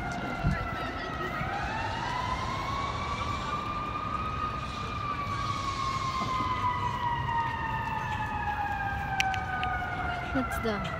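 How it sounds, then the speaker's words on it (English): An ambulance siren wails on a Chicago street, a loud continuous rising and falling tone lasting the whole stretch over steady traffic rumble, with faint voices nearby. "The ambulance, the sirens."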